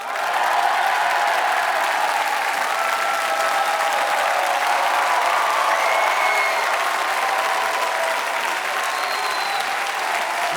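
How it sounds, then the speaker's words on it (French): A television studio audience rises to cheer and applaud David Douillet, giving a loud, sustained, even roar of clapping with no talk over it. "tout le monde se lève pour acclamer et applaudir David Douillet"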